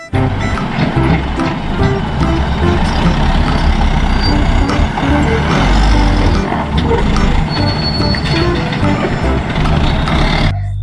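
Toy dump truck playing engine rumble and air brake effects, a busy, loud electronic mix of motor noise, hisses and beeps running on for several seconds, with a voice faintly under it.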